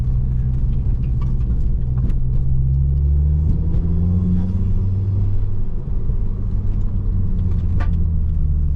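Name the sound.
motorcycle engine revving while riding in gear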